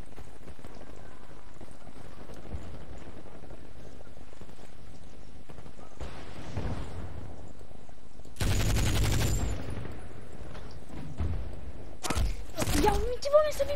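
Gunfire rattles in the Medal of Honor video game, with two loud bursts of shots standing out against a quieter, murky background of game noise.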